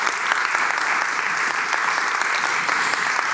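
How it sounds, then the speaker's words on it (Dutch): Steady applause from an audience honoring the panel members at a talk on slavery and the Dutch economy, dense and continuous throughout with no voices standing out. "Een applaus voor de paneleden."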